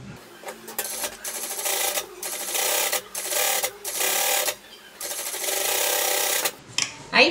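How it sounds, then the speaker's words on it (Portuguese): Sewing machine topstitching a child's pleated jacket, running in several bursts of steady rapid stitching separated by short pauses, fairly close and alone with no talk. "A gente vai fazer uma costura para rebater."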